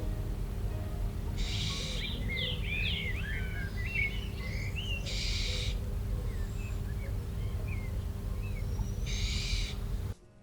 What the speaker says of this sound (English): I even got one screeching for food at the end of the evening.